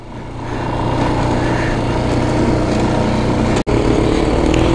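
A quad bike at Chitlang drones steadily on a ride, its engine loud and close with a constant tone and one brief dropout near the end.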